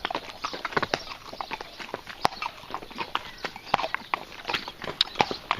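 Horses walking on a riding trip in Portugal, hooves clip-clopping in a steady, uneven rhythm close by, with faint rustling around them.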